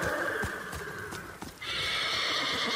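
Horses whinny loudly in a shrill, wavering call in the video game Ghost of Tsushima, with hooves clopping and a dense, noisy game background.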